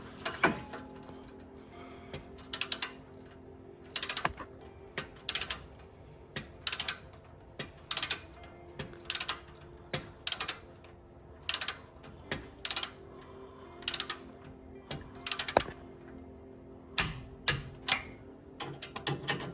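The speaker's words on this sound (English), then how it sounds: "Let's set the torque wrench to 50 Newton meters of torque." A torque wrench set to 50 newton meters ratchets in short, repeated bursts of metallic clicking while tightening bolts on a Showa anti-roll bar correction kit, with brief quiet pauses between strokes.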